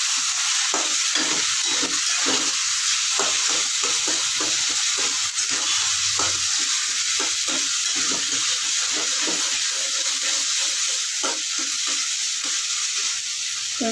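Taro leaves fry in a pan under a constant, loud sizzle while a utensil stirs them with many short, rhythmic scrapes and knocks throughout.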